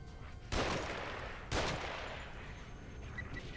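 Enemy gunfire in the survival horror game The Evil Within: two heavy shots about a second apart, each a loud crack followed by a long, booming decay over a steady ambient drone.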